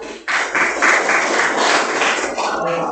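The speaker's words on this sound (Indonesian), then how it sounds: "Beri tepuk tangan buat." Students in a classroom clap for a presenting group, with loud, dense applause that starts abruptly and holds for a few seconds.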